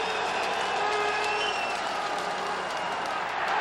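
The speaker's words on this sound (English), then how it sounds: "Noisy crowd." A large stadium crowd roars steadily at a CFL East Semi-Final football game between the Montreal Alouettes and Winnipeg Blue Bombers, a dense, continuous wash of cheering and noise throughout.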